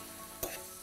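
Beef fillet sizzles in a frying pan with a steady soft crackle and one brief sharper pop.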